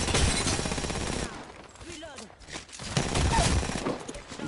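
Rapid gunfire in a video game shootout, dense bursts of shots up close, a brief lull in the middle, then heavy firing again, with voices heard in the mix.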